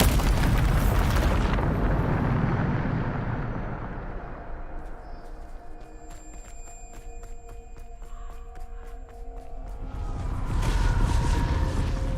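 A Bombarda spell explosion in Hogwarts Legacy: a loud booming blast that rumbles and slowly fades, followed by a quieter stretch of ticking, chiming magical tones, then another swelling burst near the end.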